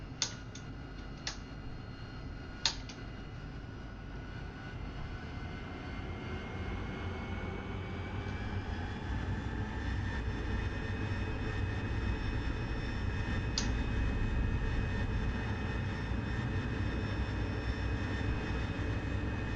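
An AV-8B Harrier jet in the DCS flight simulator spooling up for takeoff, its engine a steady, loud roar with a whining tone that rises slowly, and a few sharp clicks near the start.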